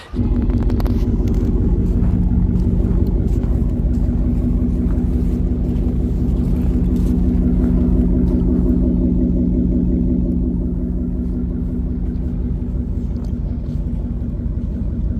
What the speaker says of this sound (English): Borla attack, exhaust